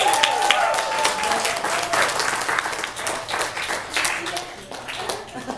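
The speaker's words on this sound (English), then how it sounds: "So everybody give a warm applause to the class of 2015." A crowd at the 2015 Emmaus graduation celebration claps warmly for the graduating class. The applause is close and lively, rising and falling in waves, with a few voices and cheers mixed in.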